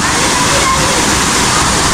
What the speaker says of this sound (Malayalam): ഈ ഒരു ഭാഗത്തു നിന്ന് വെള്ളം ചാടുന്ന ഇങ്ങനെ ആസ്വദിച്ച് നിൽക്കാം